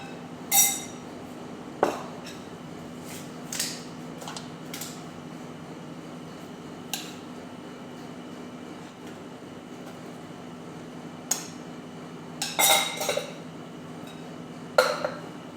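Plates and dishes from a finished meal are gathered and carried off for washing, giving scattered light clinks and clatters over a steady low hum, with no voices.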